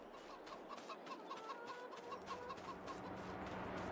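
Chickens on a Bavarian Forest farm in Farming Simulator 22 cluck in a steady run of short, evenly spaced clucks, faint and layered over a soft ambient farm background.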